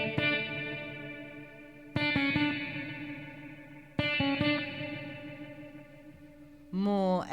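Electric guitar played through a loop pedal and drenched in massive reverb: strummed chords repeat every two seconds, each ringing out in a long, washy tail, followed by a bright bent phrase at the end.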